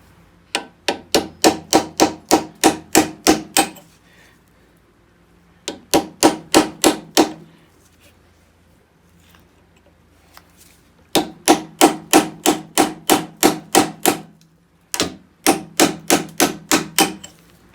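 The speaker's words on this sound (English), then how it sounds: "try and use a hammer to drive it round to actually spin the bolt" A hammer strikes a chisel against a seized bolt on an MGB GT Sebring during restoration, with close, sharp metallic blows landing in quick bursts of about eight to ten, separated by short pauses.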